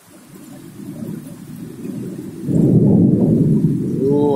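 Rain pouring steadily outdoors during monsoon weather, with a deep rolling rumble of thunder swelling in halfway through and lingering loud over the downpour, no voices.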